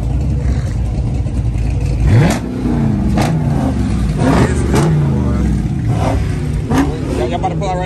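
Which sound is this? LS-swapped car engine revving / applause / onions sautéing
LS-swapped car engine revving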